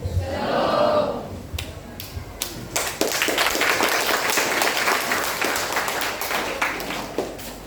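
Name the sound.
audience applause at school OSIS debate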